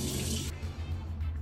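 Tap water runs into a sink while a lip scrub is rinsed off, a close, steady splash that briefly thins out partway through.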